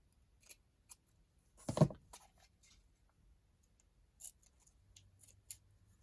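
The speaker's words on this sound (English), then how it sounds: "So just cutting the excess." Scissors snip away excess lace in a quiet crafting session, giving one louder cut in the middle among a few faint, scattered clicks and snips, with no talking.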